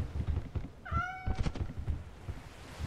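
A person imitates a cat with one drawn-out, rising-then-falling meow that lasts about half a second, set against muffled knocks and low background noise in a multiplayer game session.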